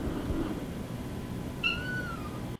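An indoor cat gives a single clear, drawn-out meow near the end, over a low background hum and faint rustling.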